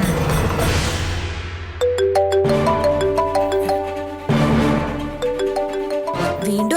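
An incoming call sets a mobile phone ringing: a bright melodic ringtone of repeated tonal phrases, close and clear, restarting partway through, with no talking over it.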